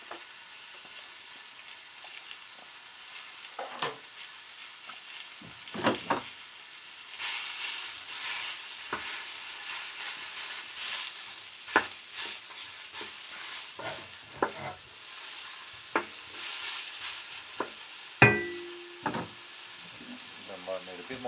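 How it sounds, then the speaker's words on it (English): Beef stir fry sizzles and hisses in a pan, a steady frying bed broken by scraping stirs and clinks from a utensil, close and moderately loud. "a bit of a beef stir fry, nothing too fancy"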